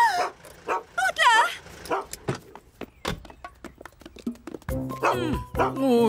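A cartoon dog yips and barks in short excited bursts with a few whimpers, mixed in among animated characters talking over it.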